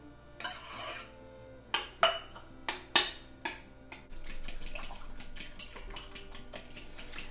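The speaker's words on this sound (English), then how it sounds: "And then we're going to mix this all together." Sour cream being stirred into an onion bacon pie filling in a bowl: a run of sharp utensil clinks and scrapes against the bowl, then a steadier close rubbing and mixing sound.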